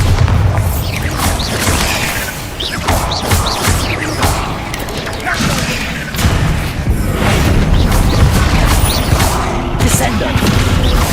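Bombarda blasting spell going off in Hogwarts Legacy on hard difficulty, a dense run of heavy booming blasts and crashes over continuous loud battle noise with a voice calling out.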